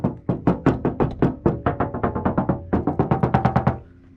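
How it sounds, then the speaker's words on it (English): Rapid series of hollow knocks on a first-generation Toyota Tacoma door panel with no sound deadening, about sixteen sharp resonant raps in quick uneven rhythm, close and loud, ending in quiet. "That's how that door sounds"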